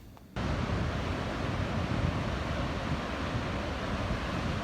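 Ocean surf and strong wind at Gunnamatta beach, Victoria, at low tide: a loud, continuous roar of waves and wind buffeting the microphone begins abruptly after a brief quieter moment and stays steady, with no voices.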